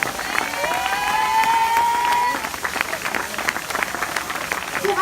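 Crowd applause and cheering greet a finisher of a 130 km trail race, steady clapping with a bright whistle-like tone running through the first half, then fading a little.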